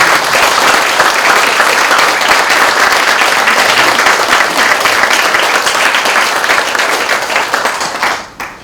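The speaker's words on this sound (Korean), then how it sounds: "큰 박수 한 번 다시 한 번 부탁드립니다" An audience claps loudly and steadily at an honorary doctorate ceremony for a pharmacy alumnus, a dense unbroken wash of applause that fades out in the final second.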